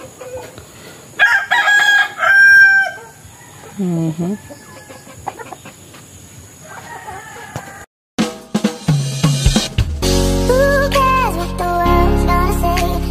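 Chickens cluck around a small farmhouse while roosters crow several times, some loud and close, others farther off, and later music plays over the birds.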